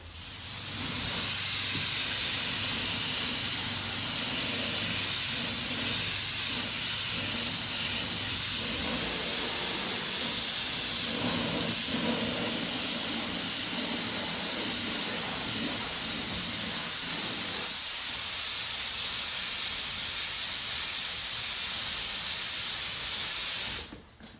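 A spray gun lays epoxy primer onto the body of a JDM Toyota Celica GT4 under restoration, a loud, continuous close hiss that holds steady for about twenty seconds before cutting off.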